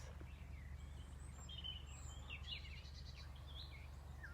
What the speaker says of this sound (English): But can you hear the birds?